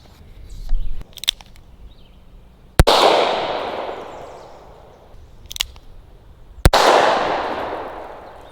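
Two sharp gunshots from a two-inch snub-nosed revolver firing .45 ACP CCI shotshells outdoors, each a loud crack trailing into a long fading echo, a few seconds apart, with fainter clicks between.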